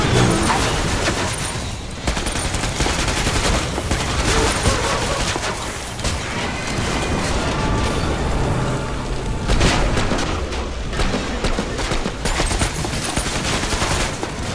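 The HMTech 401 medic assault rifle in Killing Floor 2 fires in sustained, dense bursts of rapid shots, loud and continuous throughout with hardly any gaps.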